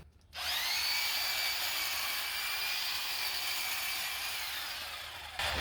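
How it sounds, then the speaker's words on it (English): A Black & Decker corded 17-inch hedge trimmer with dual-action blades runs steadily close by, giving a continuous high buzzing whir as it cuts a bush, then cuts off abruptly after about five seconds. "This is the Black & Decker corded 17-inch hedge trimmer."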